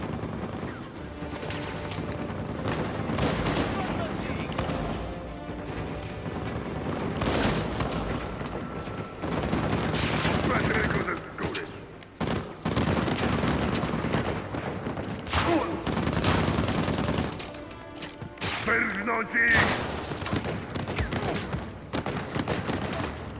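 Minigun fire in Uncharted 4: long, dense bursts of rapid automatic gunfire roaring almost continuously, broken by brief gaps and heavy impacts, loud and close throughout.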